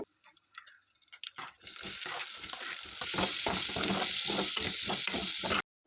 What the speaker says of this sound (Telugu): ఇప్పుడు అదే బాండీలో తాలింపు గింజలు ఆనియన్ మిర్చి వేసి వేయించుకోవాలి